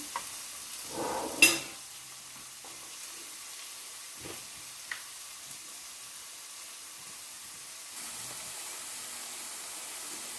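Finely chopped tomatoes and spices being stirred in a pan for millet fusion tacos, a soft steady sizzle with one brief spoon clatter near the start and a few faint scrapes.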